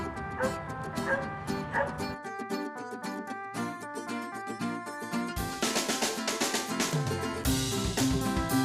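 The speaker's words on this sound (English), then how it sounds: "Now the dog has found the aid in the tree, and he's went back to her and let her know where it's at." A search and rescue dog barks in quick, repeated yips and whimpers after finding a training aid, close and insistent, with the barks coming in excited bursts throughout.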